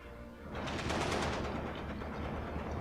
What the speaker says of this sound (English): I'm just shooting with my RD a bit